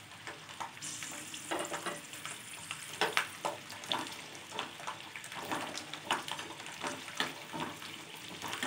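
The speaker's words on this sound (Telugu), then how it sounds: "ఆయిల్ హీట్ ఎక్కిన తర్వాత వెల్లుల్లిపాయలు ఫ్రై చేసుకోవాలి." Garlic cloves fry in hot oil for a pickle, crackling and sizzling steadily at a low level while a spoon or spatula stirs them with scraping strokes at irregular moments.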